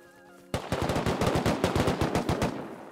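Rapid automatic gunfire in the survival game Rust, a sudden sharp burst of about twenty close, loud shots in quick succession with no talking.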